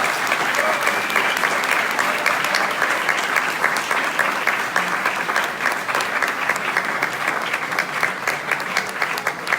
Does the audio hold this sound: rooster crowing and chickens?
no